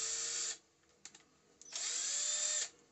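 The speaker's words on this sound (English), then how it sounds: "you have to just hold the tip of the drill machine and you have to drill it" An IZOM battery-powered drill whirs loudly in two bursts, with a quiet pause and a few clicks between them, close up.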